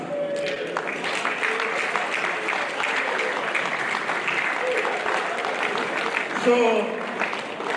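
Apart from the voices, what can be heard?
applause, a voting clap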